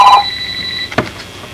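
A telephone rings, a short electronic tone burst that cuts off, followed by a faint click, loud and near with no talking.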